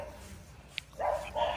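A small dog lets out a couple of short barks or yips, fairly faint and a little distant, outdoors during play with a ball.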